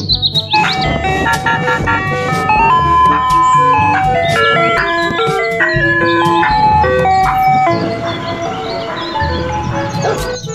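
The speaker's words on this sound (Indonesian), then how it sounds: "Yang ini ada mobil es krim" A toy ice cream truck plays its tinkly electronic jingle, a bright repeating melody of chiming notes with chirpy sound effects mixed in, loud and close, with faint voices now and then in the background.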